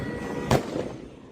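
A flashbang grenade goes off during street riots in Los Angeles: one sharp, fairly distant bang with a short echo tail, standing out against a low background murmur.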